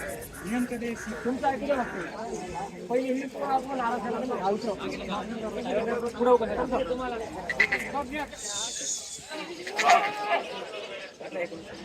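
Goats bleating repeatedly amid a busy livestock market in Chalisgaon, overlapping calls mixed with crowd chatter and voices talking.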